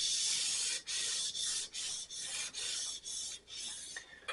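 Hand sanding with 1000-grit paper on the painted hood of a Corvair, a close, steady scratchy rasp in regular back-and-forth strokes with short pauses between them.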